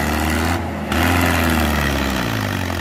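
A Mahindra tractor engine labours under load, a loud, continuous low drone that dips briefly and then pulls back up with its pitch shifting, heard close with no talk.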